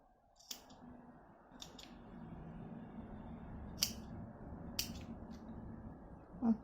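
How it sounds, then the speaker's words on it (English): Scissors snip through the stitching of a lined reversible dress hem, a handful of sharp, isolated close clicks spaced out over quiet room tone. "I just cut one stitching off and then stretch a little bit"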